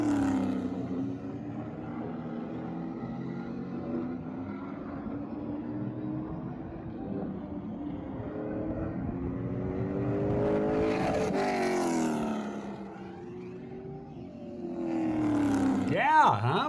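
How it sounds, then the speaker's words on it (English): Race cars circle the Wenatchee Valley Super Oval, their engines roaring at a moderate distance, rising and falling in pitch as they lap, with one car sweeping past near the end. "you've heard the roar of the engines for the first time in a long time"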